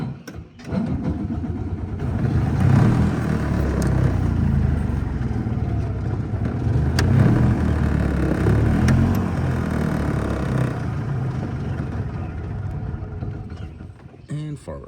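A Edsel car engine runs steadily and rises in revs as the gas pedal is pressed, a loud, continuous low rumble close by, with a voice talking over it.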